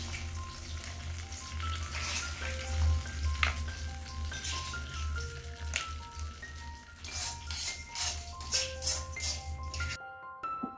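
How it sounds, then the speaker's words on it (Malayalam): Hot tempering poured onto roasted gram (pottukadalai) chutney, Tamil Nadu hotel style, erupting in a sustained crackling sizzle with popping spits, close and fairly loud, cutting off abruptly near the end. "ഇനി നമുക്ക് ഈ വറവ് നേരിട്ട് ഈ ചട്നീൻ്റെ മുകളിലേക്ക് ചേർത്ത് കൊടുക്കാം"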